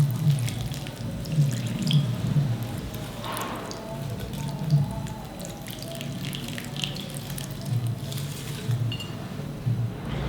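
Water poured generously onto the roots of a potted plant in a 10-inch pot, a continuous splashing trickle with faint clinks, under a voice at times.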